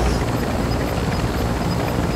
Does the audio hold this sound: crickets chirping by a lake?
no